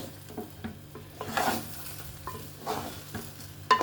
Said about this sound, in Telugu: బియ్యం మాత్రం బాగా వేగిపోయినాయి.